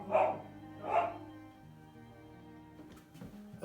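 Two dogs, Scooter and Maggie, bark indoors as one arrives: two loud, close barks about a second apart, then quieter whimpering and shuffling.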